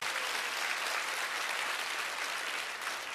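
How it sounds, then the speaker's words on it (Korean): A large congregation applauds during a pastor's sermon at a 2014 Hallelujah evangelism rally. The clapping is dense and sustained, forming a steady wash of applause at moderate distance for the whole stretch, with no clear speech. "박수 친 사람도 있구만"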